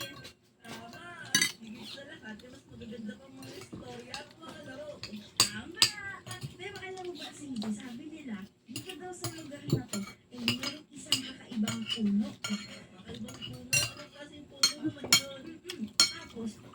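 Plates and cutlery clink and scrape during a home meal in a sparse, irregular pattern of light metallic taps. The sounds are fairly close but quiet, and there is murmured conversation in the background.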